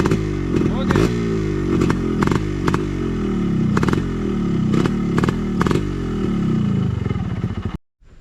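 Yamaha RX100 two-stroke motorcycle revving hard up close, loud repeated throttle blips over a raspy crackling idle, cutting off abruptly at the end.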